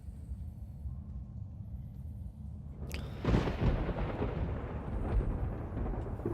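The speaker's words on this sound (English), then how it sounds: "when the thunder strikes, it gets much louder" Thunder in the Splinter Cell Chaos Theory video game, lighthouse level: a steady low background hum breaks into a sharp crack followed by a loud, rolling rumble that lingers to the end.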